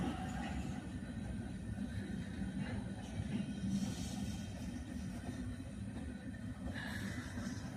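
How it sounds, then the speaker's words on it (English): A long freight train pulled by three engines rolls past, a steady loud rumble and clatter of rail cars continuing throughout with occasional faint wheel squeal, no talking. "they got 3 engines, so it could be, you know, kind of long train"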